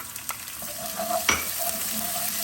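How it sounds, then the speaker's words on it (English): Tomatoes go into hot oil for Arabic-style rice and beans and fry with a close, continuous sizzle, with a brief sharp clatter midway and a faint tonal hum underneath. "add your tomatoes in the oil"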